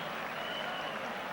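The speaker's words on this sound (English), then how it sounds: "Applause from the crowd" A cricket crowd at an England versus West Indies test match claps in steady, broad applause, moderately distant, with a commentator's voice faint beneath it.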